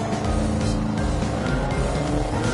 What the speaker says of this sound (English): this car should have more than enough power.